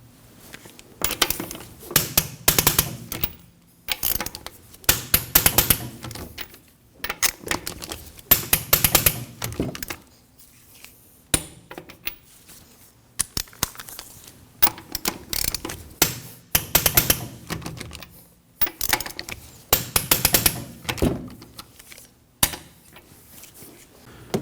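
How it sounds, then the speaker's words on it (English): A torque wrench tightens bolts to 80 foot-pounds in a star pattern on a 2003-2006 Subaru Baja, giving close, rhythmic bursts of ratcheting clicks in repeated runs separated by short pauses, with no voices. "We can torque these to 80 foot-pounds in a star pattern."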